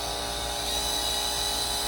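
A number 2 center drill cutting on a milling machine, a steady, dense high-pitched whine with a sharp tonal line, continuous and close for the whole stretch with no voices.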